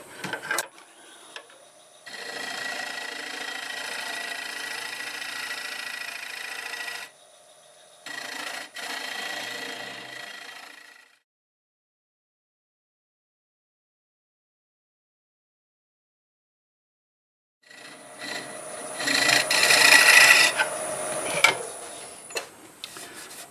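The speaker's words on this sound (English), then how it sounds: "I'll use my negative rake scraper to get it blended in." Negative rake scraper cutting a tangent stave wood turning on a lathe, a steady close rasping scrape in two passes, then a long silent gap before a louder, harsher scraping pass resumes.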